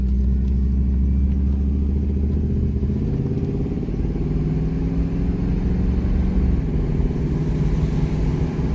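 A 1993 Cadillac Coupe Deville with a 4.9 V8 accelerates from inside the car, its engine drone steady and loud, with a low rumble whose pitch slowly climbs as it pulls.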